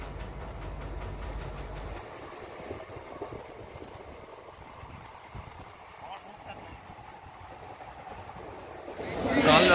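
The Amravati Express passenger train running on rails through Karnataka, a continuous low rumble and rattle heard from on board, with a voice talking over it and a louder rush near the end.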